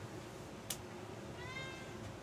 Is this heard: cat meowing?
yes